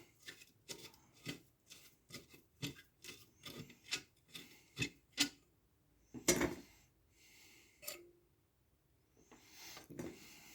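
Screws are being worked out of an old lock under restoration, giving a steady series of short, close, gritty rasping turns in an even rhythm, then a few louder metallic scrapes and a clink near the end.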